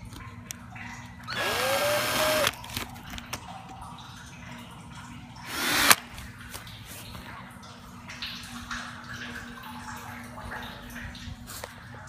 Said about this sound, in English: I'm going to be drilling a hole to insert the tubing.